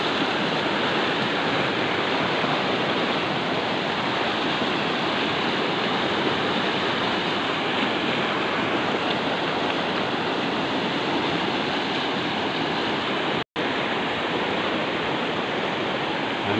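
Continuous loud roar of the Jhumri Khola stream rushing in flood, a dense steady wash of water noise filling the whole span with only a momentary break.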